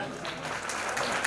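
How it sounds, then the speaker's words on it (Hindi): Steady applause from a crowd at a community student-awards ceremony in Jhalawar, India, fills the whole moment, a dense wash of clapping that swells slightly toward the end. "जोरदार तालियां हमारे शिक्षक साथी को"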